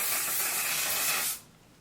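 A mattifying, waterproof makeup setting spray releases a fine mist in one steady, close hiss that lasts over a second and then cuts off into near silence.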